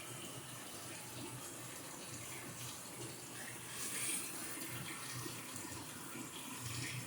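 A Frigidaire automatic washing machine fills with water while washing plush toys, giving a faint, continuous rushing and trickling flow that stays steady throughout.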